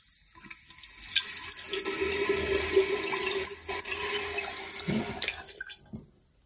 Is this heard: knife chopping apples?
no